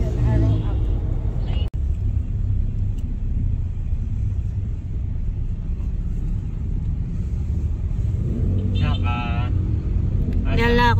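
Steady low road rumble from inside someone's vehicle during a car ride, continuous throughout, with a brief dropout near the start and short bursts of talking toward the end.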